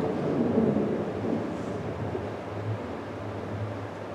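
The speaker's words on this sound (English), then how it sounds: "Sounds like a storm's coming." Thunder from an approaching storm, played as a sound effect: a low, distant rumble that swells early and then rolls on at a steady murmur, with no voices over it.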